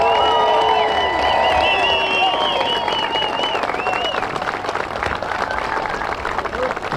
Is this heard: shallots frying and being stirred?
no